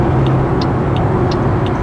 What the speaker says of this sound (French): on est donc sur la 108, mais équipé du moteur de 82 chevaux